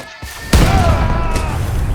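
Cannon fire in the strategy game Age of Empires 3 gives a loud booming blast with a crashing tail, preceded by a smaller thump.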